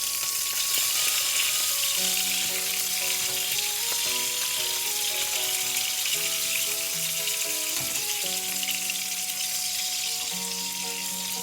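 Steady, dense sizzling of spicy Anglo-Indian fried fish in hot oil, continuous throughout, with soft music playing underneath.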